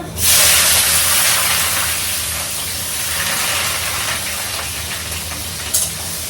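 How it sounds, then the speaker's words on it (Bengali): Onions drop into hot oil already tempered with cardamom for chicken bharta and burst into a loud, close hiss that stays strong and slowly settles into a steady sizzle. "এবার দিয়ে দেবো পেঁয়াজ"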